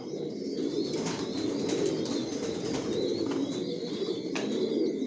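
Original choco racer pigeons in a loft, including birds sitting on eggs, coo continuously in a low murmuring chorus, with scattered faint chirps and light rustling, close and without voices.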